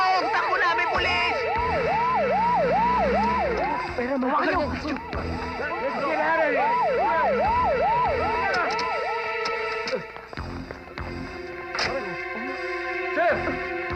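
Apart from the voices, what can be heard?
police siren in a film scene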